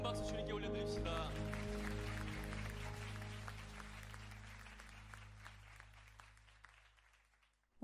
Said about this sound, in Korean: 박수 주님께 올려드립시다.